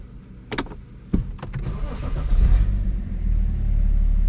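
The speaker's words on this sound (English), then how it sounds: "and then you can start your car" A BMW 335d diesel engine starts with a few short clicks and a sharp crank, then settles into a steady, close idle rumble that grows slightly louder and holds to the end.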